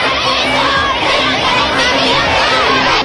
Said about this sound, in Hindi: नारे लग रहे हैं, बेटियां चीख रही हैं